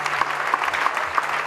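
Applause from a church congregation during worship, a steady, dense clapping that fills the space and holds evenly throughout without a break.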